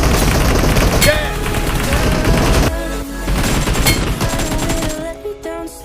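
Gunfire in the mobile battle-royale game BGMI: rapid automatic bursts and sharp single shots crack out in quick succession, loud and close, with a song playing underneath and brief gaps between volleys.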